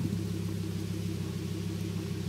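A 1994 Audi S4 with a 2.2-litre five-cylinder turbo engine pulls hard through first and second gear, giving a steady, loud, close rumble with no talk over it.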